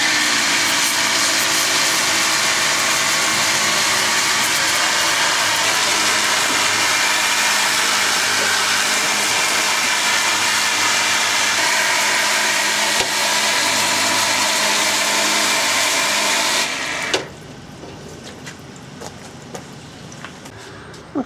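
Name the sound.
Ryobi cordless pressure washer cleaning a car engine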